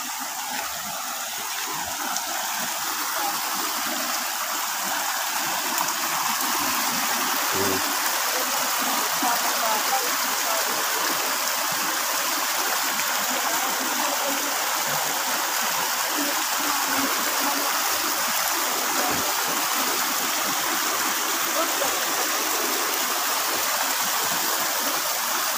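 A river stream rushes steadily on the way to a waterfall in Carigara, Leyte, a constant loud gushing flow with no break, heard up close.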